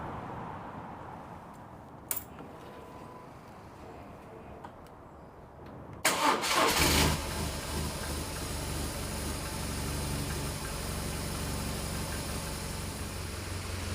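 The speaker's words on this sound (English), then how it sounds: "I need to fire the bike up and get some heat into the oil" A BMW R1200GS Adventure motorcycle engine cranks and fires into life around the middle, settling into a steady, fairly loud boxer idle after a quieter stretch of faint shop noise and small clicks.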